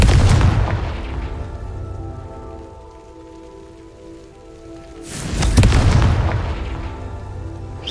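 A Confringo blasting spell in Hogwarts Legacy goes off as two loud, booming bursts with crackling debris, separated by a few seconds of quieter, humming calm.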